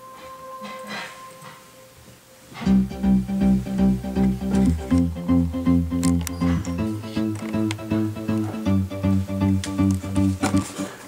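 A Thor synthesizer with an altered filter plays a pulsing sequence of sustained tones, quiet at first and then loud, with repeating rhythmic swells after a quiet opening.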